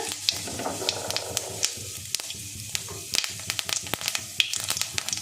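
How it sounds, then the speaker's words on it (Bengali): Whole cumin seeds sizzle and crackle in hot oil, a close, steady frying hiss with sharp popping ticks scattered throughout. "তেল গরম হয়ে গেছে, আমি কিছুটা গোটা জিরে দিয়ে দেবো এর মধ্যে"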